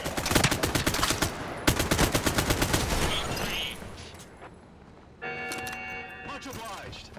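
Rapid bursts of enemy machine gun fire in the tactical shooter Caliber, loud and close at first, then a second volley before fading into quieter ambience with a chiming tone.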